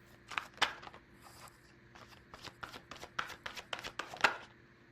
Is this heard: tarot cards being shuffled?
yes